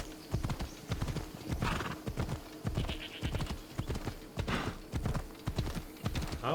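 Steady clip-clop of horse hooves from Assassin's Creed Odyssey, sounding close and regular throughout, with a whinny mixed in and a faint game backdrop behind.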